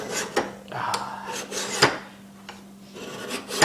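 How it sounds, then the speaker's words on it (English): Metal file scraping along a steel knife blank during stock-removal knife making, a series of close, rough rasping strokes with short gaps and a few sharper scrapes, no talking. "If your files are going like that, then you just want to go with the files so it scrapes off more."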